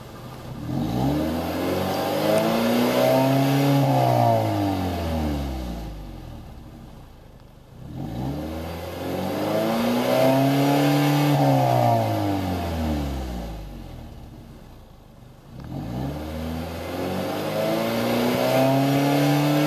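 A Renault Laguna III engine (2008–2015, about 111,486 miles) revs during an exhaust check, climbing three times to a sustained high pitch and falling back between runs, loud and close with no speech.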